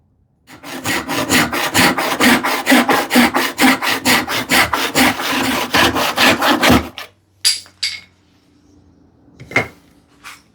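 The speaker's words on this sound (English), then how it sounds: "and cross cut it." A hand saw crosscuts a board of ash in steady rhythmic back-and-forth strokes, close and loud, for about seven seconds, followed by a few scattered knocks and handling sounds as the piece comes free.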